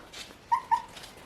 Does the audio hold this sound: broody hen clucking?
no